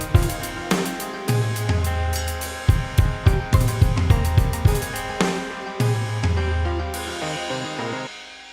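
An electronic beat whose low end drops away and returns: deep bass and kick fade out, leaving thin chords and percussion, then the bass comes back.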